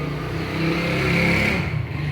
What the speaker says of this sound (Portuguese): a moto acabou de passar na rua